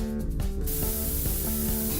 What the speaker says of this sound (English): cover it with spray paint.